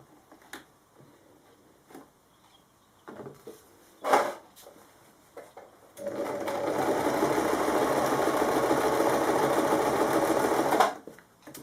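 A sewing machine runs steadily for about five seconds, stitching a tie onto the wrong side of a kimono wrap top, after a few light clicks and handling knocks at close range.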